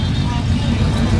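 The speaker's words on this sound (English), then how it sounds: "Green Camaro going by" A green Chevrolet Camaro driving past at a car show, a steady low engine rumble close by, with a voice talking over it.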